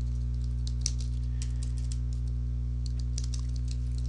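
Rapid computer keyboard typing of a chat message, a steady run of light clicks heard close over a constant low electrical hum.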